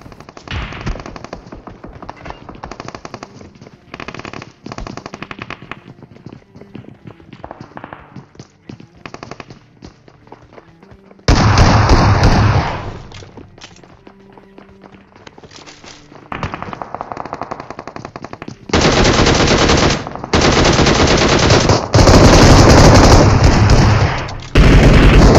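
Rapid automatic gunfire from a battle royale shooter game, loud, sustained bursts with sharp shots and short pauses, no talking.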